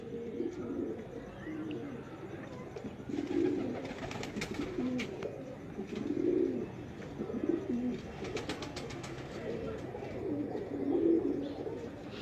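Breeder pigeons coo in low, throaty bursts that repeat every second or two, close and moderately loud, with faint rustling and soft background noise between calls.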